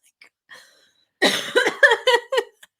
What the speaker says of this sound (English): This is why I had to cough before.